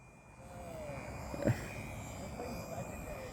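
A small RC airplane flies toward a parked car, its thin engine whine rising and falling faintly against outdoor background noise, with a sharp bump partway through and a voice speaking.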